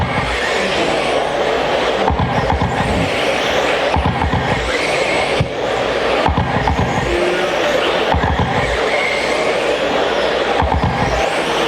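13.5 RC stadium trucks racing on a speedway track, with buzzing electric motors rising and falling as trucks pass at varying distances and repeated bursts of tire scrub across a continuous loud din.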